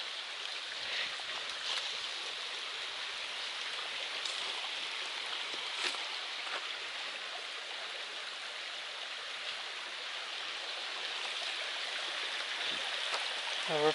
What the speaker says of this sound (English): This is the footbridge over Black Brook.